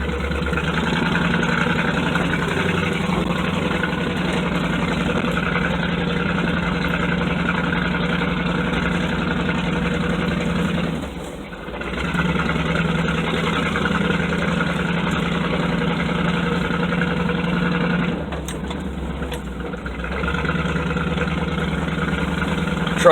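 A K5 truck engine idles steadily and loudly, with a low rumbling drone that dips briefly twice before resuming.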